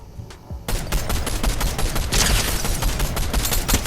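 Rapid automatic gunfire in Fortnite Zero Build, a few quiet taps, then a sustained loud burst of dense shots that keeps going without pause.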